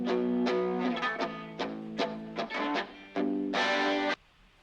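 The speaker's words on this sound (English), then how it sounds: "And then there are these two guitar tracks that come in" Two layered electric guitar tracks with an effected, slightly distorted tone, strumming a series of sharp repeated chords with brief gaps, ending on a longer sustained chord; loud, close and with no talking.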